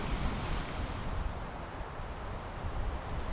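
Ocean surf breaking below the cliffs of the Northern California coast, a steady broadband wash of waves with wind buffeting the microphone, continuous and fairly loud throughout with no voices.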